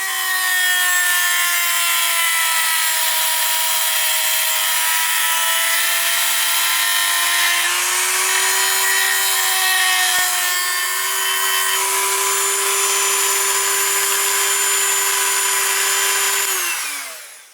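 A power tool cuts an extension off the side of a metal Q1 tank chassis, giving a steady, close, high-pitched whining grind that holds for about seventeen seconds, dips slightly in pitch partway through, and then stops abruptly.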